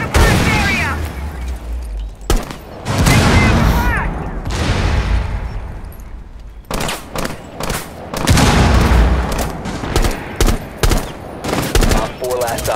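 Rainbow Six Siege video game firefight with bursts of rapid gunfire and heavy booming grenade blasts, loud and repeated throughout, with voices talking in between.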